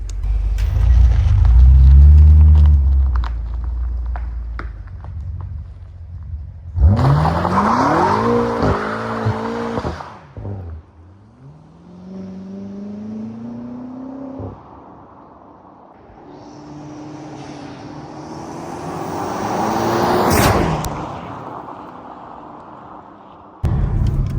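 A BMW M3 G80 approaches and passes down a street with a loud engine roar, revving and shifting through gears, then another burst of acceleration swells nearby before fading.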